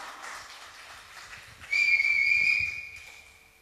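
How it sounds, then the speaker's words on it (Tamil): A shrill, sustained whistle rises over a low crowd murmur and clapping from the audience at a singing competition semi-final, holding steady for about a second before fading back into the hubbub. "கரகோஷத்துடன் சேர்ந்து விசில் சத்தம் வருகின்றது."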